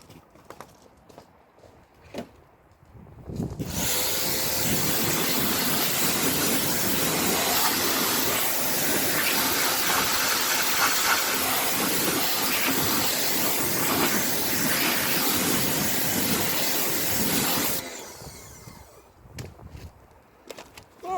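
A steady, loud hiss of water spray rinses brake dust and road grime off a car wheel, running unbroken for about fourteen seconds, then cutting off into quieter ambience.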